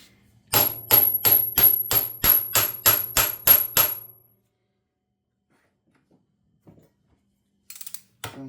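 Eleven sharp, evenly spaced metallic strikes from an improvised hammer ring out close by while working on a Honda Rancher ATV, then silence with a few faint knocks near the end.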